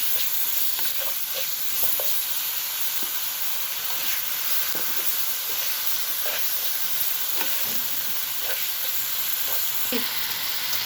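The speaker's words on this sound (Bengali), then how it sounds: "এই দেখুন আমার মশলাটা অনেক সুন্দরভাবে আমি কষিয়ে নিচ্ছি" Ginger-garlic masala paste sizzles steadily in a hot pan, giving a constant close hiss with small crackles and occasional stirring scrapes, and no talking.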